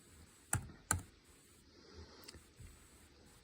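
A few scattered clicks of computer keyboard keys, typed softly and close, with two sharper taps early on and quieter presses after, over a low background hiss.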